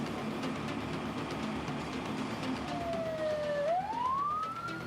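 A fire engine siren from a Bekasi fire crew heading to a plastic factory fire wails loudly over steady traffic noise, its pitch dipping and then sweeping upward in a long rising tone.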